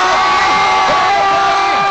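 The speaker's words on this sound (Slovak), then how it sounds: "Obrovský aplauz a potlesk!" A large festival crowd at Orange Music Summer Orava 2009 erupts in loud, continuous cheering and whooping, with excited shouts blending into a dense wall of sound.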